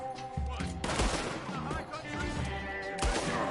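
Gunfire in the video game Red Dead Redemption 2: rapid, overlapping shots and sharp cracks in a dense, loud barrage, mixed with other game sounds and a voice.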